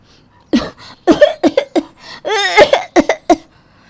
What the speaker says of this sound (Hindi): वो जानबूझकर ज़ोर ज़ोर से खांसने की एक्टिंग करना शुरू कर देती है